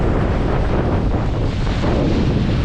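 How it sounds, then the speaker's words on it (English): Strong wind on a beach in Aruba roars as dense, continuous buffeting across the microphone, loud and unbroken, with possible surf blended underneath. "Yeah, the wind is really blowing strong now."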